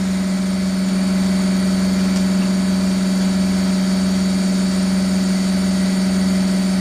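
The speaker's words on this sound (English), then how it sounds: "what you hear is the pump." A pump runs on an older boat, a steady mechanical drone with a strong constant hum that holds unchanged from start to finish, close and fairly loud with no voices over it.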